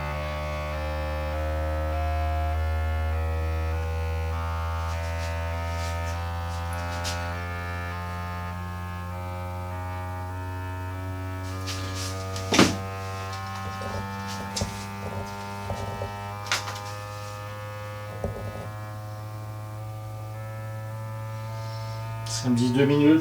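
A Bambu Lab P1P 3D printer running its first-time calibration gives a loud, steady motor hum and buzz with strong tonal resonance, broken later by a few sharp clicks and knocks near the end.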